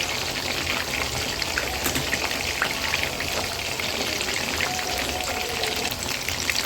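Chicken pieces sizzle steadily in hot oil over a high flame, a dense, even crackle that holds at the same loudness throughout with no talking.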